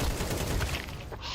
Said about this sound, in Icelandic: Ég heyrði skotin í CT, sko.